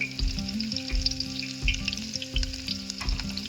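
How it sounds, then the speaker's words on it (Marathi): Garlic and green chillies fry in hot oil with cumin and mustard seeds in a pot, a steady close sizzle broken by periodic low knocks and stirring, with no voices. "आणि आता लसूण तळून घेऊया। मिरची तळून घेऊया।"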